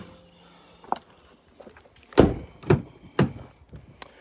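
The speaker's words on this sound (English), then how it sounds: "Just pop the bonnet while I'm here." Bonnet release on a 2017 Nissan Navara 2.3 dCi Tekna automatic pops open with a sharp thunk, followed by a few more solid knocks and clicks around the pickup's front, with no talking.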